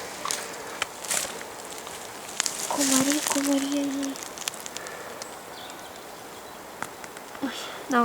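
Thin, high mosquito buzzing drifts in and out close by, with a brief hum mid-clip and scattered faint voices and rustles in a quiet forest setting.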